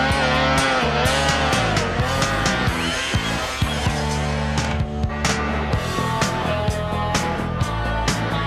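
Polaris snowmobile engine roaring at the 1997 Jackson Hole World Championship Snowmobile Hillclimb in the Mod 4 class, loud and continuous, with the pitch rising and falling as the machine climbs the mountain, mixed with music-like tonal layers.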